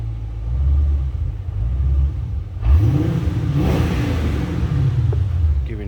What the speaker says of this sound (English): Give you an idea what it sounds like under throttle. There you can hear that idle.